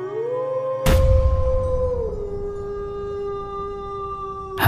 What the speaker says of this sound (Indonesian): Kok tiba-tiba ada suara serigala sih?